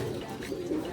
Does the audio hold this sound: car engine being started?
no